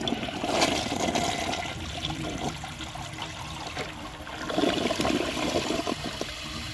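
A Mansfield Alto toilet flushes with a loud, close, continuous rush and swirl of water, gurgling and surging unevenly for several seconds.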